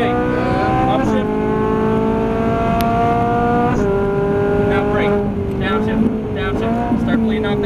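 A Ferrari 458 Italia engine roars loud and close on a race track, its pitch climbing steadily and then dropping sharply at each of several quick upshifts.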